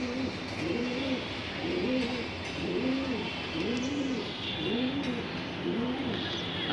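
Racing pigeons coo steadily in a repeating rhythm of low, rolling calls while they bathe, close and clear over a constant splashing, hissing wash of water.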